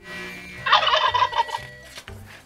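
A turkey gobbles in a loud, rapid rattling burst lasting about a second, close and alone, followed by softer low background noise.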